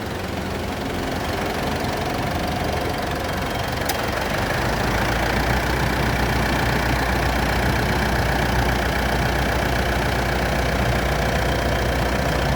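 A Mitsubishi Triton pickup's 2.5 DID common-rail diesel idles steadily at close range, a loud, even clatter with diesel knock running throughout and no one speaking.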